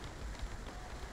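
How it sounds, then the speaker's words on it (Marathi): Rain falling at Shruberry Palms Resort makes a faint, steady, even hiss with no other distinct sounds. "कारण पाऊस पडतो आहे, परत पाऊस चालू झाला आहे."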